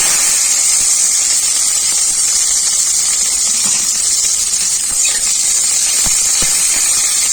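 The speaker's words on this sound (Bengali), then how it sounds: "সজনে ডাঁটার ডাল বানাবো, তাই জন্য সজনে ডাঁটাগুলো আগে ভেজে নেব।" Moringa drumstick pieces fry in hot mustard oil, giving a loud, steady sizzle and hiss that runs unbroken from start to finish with no talk.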